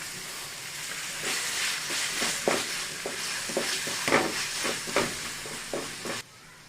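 Green chilies and tomatoes sauté in a pan with a steady hiss, broken by a series of rhythmic scraping strokes from stirring, ending abruptly.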